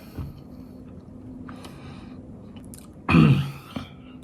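Someone chews a mouthful of Ready Plus emergency breakfast powdered eggs, with soft, close mouth sounds and a louder wet chewing burst near the end; no speech.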